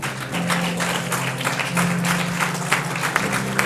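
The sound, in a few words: applause in church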